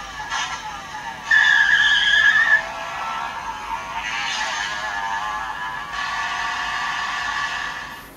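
A toy Faiz Driver belt plays its electronic effect of the Auto Vajin motorcycle speeding: a revving, skidding engine burst followed by a sustained whooshing drive tone, loud and close, with no talking over it.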